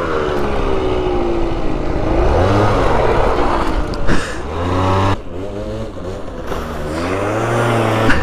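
Stunt motorbike revving hard while drifting, loud close engine rising and falling in repeated rev sweeps with brief drops between them.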